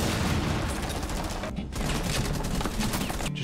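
Rapid gunfire in the shooter game Rainbow Six Siege, a loud dense burst of shots running nearly throughout, with brief gaps.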